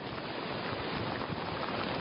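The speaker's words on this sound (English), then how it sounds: "It's getting extremely windy out here to the point that it's becoming a little bit of a challenge to stand." Strong, steady wind roars across the Atlantic coast at Satellite Beach, Florida, during Hurricane Matthew, a constant broadband rush with surf-like noise and no voices heard.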